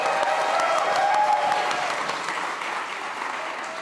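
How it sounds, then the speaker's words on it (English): A summit audience applauds a speaker, a dense, even roar of many hands clapping that stays steady and slowly eases in level across the few seconds. "Give her a round of applause, she's going to be great."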